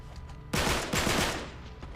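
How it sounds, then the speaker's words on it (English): A machine pistol fires a rapid, continuous burst in Uncharted 3, loud and dense from about halfway in, with faint earlier game noise before it. "If you want, you could climb up to these windows and probably pop in there with a pistol, or I'm using a machine pistol."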